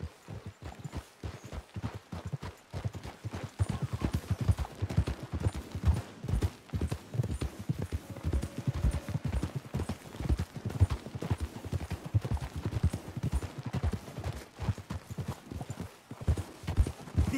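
Horses clip-clop steadily along in Red Dead Redemption 2, a brisk and regular run of hoofbeats on a trail with faint background ambience.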